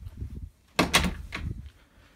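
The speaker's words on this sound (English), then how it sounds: "close that door." A door closes in a video game, a sharp knock and thud followed by a second bang and a brief rattle, fairly close, heard alone with no talk.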